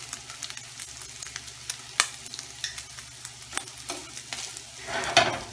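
Onion and bacon frying in a pan, a steady soft sizzle with scattered crackles and the odd scrape of stirring, one louder pop of spatter near the end, no one talking.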